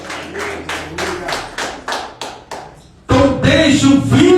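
Hands clap in a steady rhythm of about eight spaced beats during a church evening communion service, close and distinct, then a burst of louder, fuller sound with voices takes over near the end.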